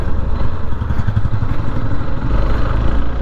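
A motorcycle engine runs steadily and loud up close with a rough, throbbing low rumble and some mechanical clatter, heard at a college festival with no talk over it.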